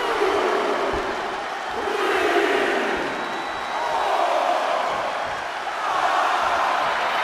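A wrestling crowd in the video game WWE 2K24 roars and cheers in loud, swelling waves that rise and fall over several seconds, filling the arena with dense noise.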